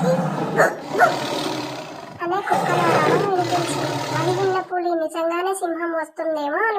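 A deep, drawn-out roar like a lion's rises over the first few seconds, followed by a voice speaking in short, animated bursts.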